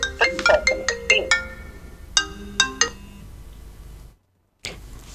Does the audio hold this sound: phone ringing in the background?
yes